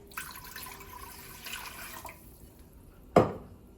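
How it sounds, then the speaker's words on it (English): Water poured from a tap or jug into a cooking pot for one-pot mac and cheese, a steady running stream for about two seconds, then quiet, then a single sharp splash or clunk. "in my pot, I'm adding 3 cups of water"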